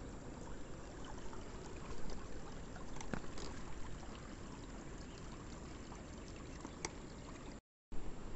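Water rushing through a broken earthen bund in a flooded paddy field, a steady close gurgling flow with small splashes and trickles, continuous and moderately quiet, cut by a brief dropout near the end.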